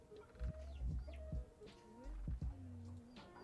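Big Cluck, a giant chicken in the EOA game, gives a few short clucks mixed with low thumping game sounds, fairly faint and without talk.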